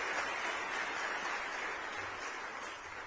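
Sustained applause from an audience at a formal government launch event in Kenya, a steady even wash of clapping throughout, moderately loud and continuous.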